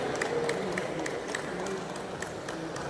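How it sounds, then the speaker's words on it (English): Scattered audience applause at a Rotary Club of Sivakasi Sparklers event honoring a chief guest, fairly light and steady for about three seconds with a few sharp clap accents over a soft room hum. "Expecting a good applause over here."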